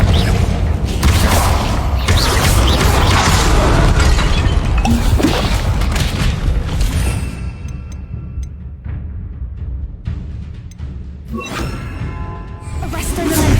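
Bombarda and Confringo blast spells in Hogwarts Legacy combat, loud booming explosions and crashing impacts layered in a dense, continuous barrage with whooshes and a voice calling out spells.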